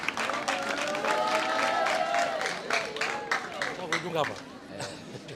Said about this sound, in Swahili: Wapi makofi ya representative bana? Wapi makofi?